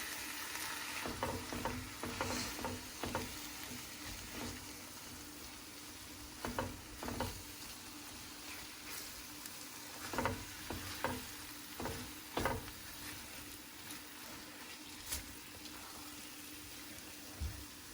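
Jamaican beef patty filling with Worcestershire sauce is mixed in a hot pan, a quiet continuous sizzle under intermittent scraping stirring strokes, some clustered in short bursts.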